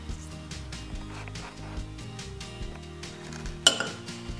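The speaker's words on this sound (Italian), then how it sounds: "E ora incominciamo a mescolare e andiamo appunto a mescolare" A spoon scrapes and taps against a bowl while Colgate toothpaste is stirred into flour for homemade slime, soft and close, ending with one sharp clink.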